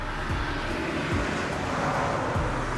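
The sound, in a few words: cars driving past on a road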